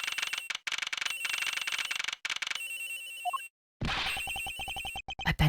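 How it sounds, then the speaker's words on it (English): A phone rings repeatedly in the Ace Attorney Investigations game, a bright electronic trilling in quick bursts with short gaps, then a pause and more ringing alongside chimes; no one speaks. "The ringing is coming from somewhere around here."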